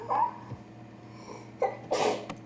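A child outdoors in the snow sneezes nearby, first a small catch of breath, then a clear, loud sneeze near the end, with quiet breathing in between and no talking.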